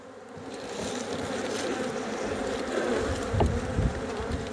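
Honey bees in a horizontal hive during an inspection, a dense continuous buzzing close by that swells slightly with a few louder passes.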